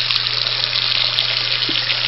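Water runs steadily from an electric water heater being drained after an element replacement, a loud, even gushing hiss with a low mechanical hum beneath it.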